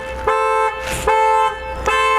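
A Volkswagen panic alarm sounds the car horn in three loud, evenly spaced honks, each held for about half a second, close and alone.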